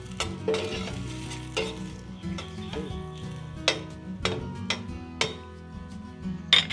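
Onions frying in a pan for Filipino-style picadillo, a constant close sizzle punctuated by regular sharp knocks and scrapes of a utensil stirring against the pan.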